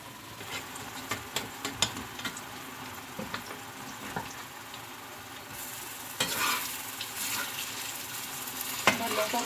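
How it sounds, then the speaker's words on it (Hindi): Dahi bhalle frying in hot oil until golden, a steady low sizzle with scattered pops and utensil clinks, growing brighter and louder in the second half. "देखिए इस तरह से हम इसको फ्राई कर लेंगे अच्छी तरह से गोल्डन होने तक।"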